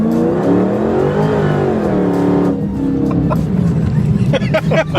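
A 1000 hp Dodge Hellcat does a rolling burnout on a highway from about 30 mph, its engine rising in a loud, close roar with sweeping pitch changes, while people's voices break in over the noise toward the end.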